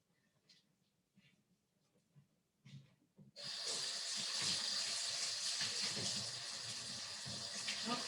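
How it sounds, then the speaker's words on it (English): Running tap water gushes loudly and steadily as hands are washed under a faucet in a home kitchen, starting abruptly after a few seconds of quiet room noise and continuing without a break to the end. "First things first, I'm going to wash my hands."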